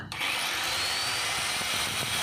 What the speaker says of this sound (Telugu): అందు గురించి నేను మొత్తం గ్రైండింగ్ పట్టేస్తున్నా